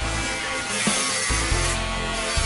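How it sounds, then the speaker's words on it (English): A Dremel abrasive brush scrubbing the V-groove of a wood carving: a steady, bright high-pitched whirring hiss with a low motor drone beneath it, shifting slightly in pitch as the brush presses and eases off. "I used a Dremel abrasive brush to get into the V-groove of the carving"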